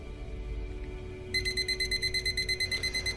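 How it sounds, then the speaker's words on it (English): A digital countdown timer alarm beeps in a fast, steady pulsing pattern of high electronic tones, starting suddenly partway through over a quiet background hum. "Let me just turn my timer on"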